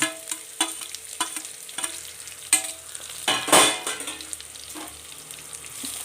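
Chopped ginger and onion saute in an oily pan for a pulao, giving a steady close sizzle with repeated stirring scrapes and a louder burst of frying midway, no voices.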